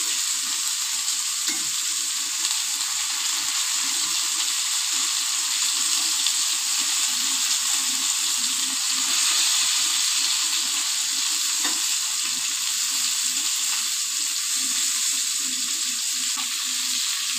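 Bangda mackerel fish fries in a pan with a steady, loud sizzle that holds evenly throughout, broken by a few faint scrapes and clicks as the fish is pressed and turned.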